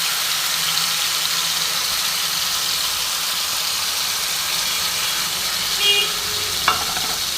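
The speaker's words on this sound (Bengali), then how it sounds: "তো আস্তে আস্তে ভাজা হোক" A masala egg fries in a pan with a steady, loud, close sizzle of hot oil that runs the whole time, broken near the end by a couple of brief clinks, with no talking.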